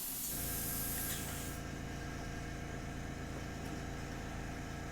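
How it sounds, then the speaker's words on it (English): A steady, continuous hiss of an airbrush spraying cleaner through itself over a low mechanical hum, fairly faint and unbroken throughout, with no voices. "spray it all the way through"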